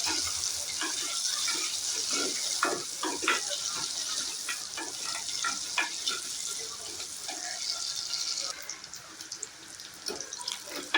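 About twenty small onions with green chillies and curry leaves frying in oil, a continuous hiss of sizzling with scattered crackles and pops throughout, fairly close and without speech.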